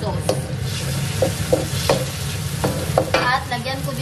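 Chicken pieces frying until golden brown with a splash of seasoning and oyster sauce, a dense, loud sizzle over a low hum, with repeated spatula knocks and scrapes close to the mic.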